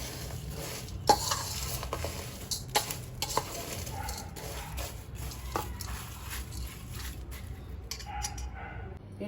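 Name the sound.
stirring spices into flattened rice (poha) mixture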